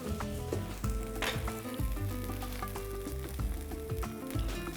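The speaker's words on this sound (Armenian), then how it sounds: "և տապակում ենք փետրաձև կտրատած սոխը" Sliced onion frying in olive oil in a pan, a soft continuous sizzle with occasional stirring scrapes over low background music.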